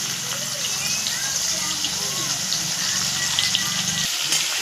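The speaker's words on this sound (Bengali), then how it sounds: "ফ্রাই করা তেলের মধ্যে আমি পেঁয়াজগুলোকে ভেজে নেব।" Onions frying in hot oil left over from frying chicken give a steady, loud sizzle with a low bubbling undertone, continuous throughout, with a voice talking over the cooking.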